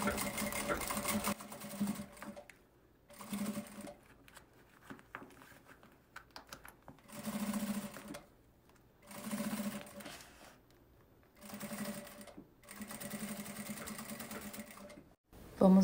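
A sewing machine stitches a seam on a plastic pocket for a small case, running in several steady bursts with brief pauses between them and faint handling noise.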